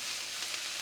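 Fajita vegetables charring on a hot iron plate give off a steady, close hiss and crackle of sizzling throughout the short moment.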